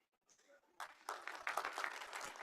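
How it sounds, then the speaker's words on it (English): An audience at a university graduation ceremony starts applauding, growing from scattered claps into a fuller, sustained round of applause in a large venue, with some voices mixed in. "A big round of applause for that moment"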